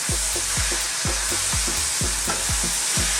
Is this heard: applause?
no